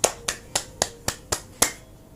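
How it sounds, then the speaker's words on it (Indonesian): Seven sharp, evenly spaced hand claps ring out one at a time in a steady rhythm, close and distinct against a quiet background. "Melambai, tepuk tangan."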